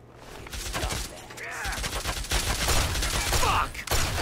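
Gunfire in the post-apocalyptic video game Fallout 3, a rapid fusillade of shots crackling almost continuously over about four seconds, loud and close, with a voice speaking in the background.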